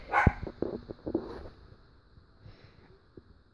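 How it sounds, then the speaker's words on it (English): Several dogs bark in short, sharp bursts at moderate distance, a cluster of quick barks early followed by sparser, fainter yips and a single bark near the end, with no talking. "But dogs are barking."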